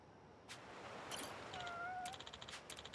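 Cat meows in a Yakuza video game, a few short mewing calls rising over steady background game ambience, fairly close and moderately loud, with no one talking.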